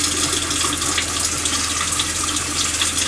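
Water pours steadily from a boat cabin's sink faucet, running very hot with a little air in the line, a constant hiss with a low hum beneath it.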